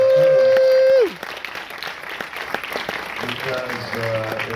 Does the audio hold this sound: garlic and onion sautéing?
no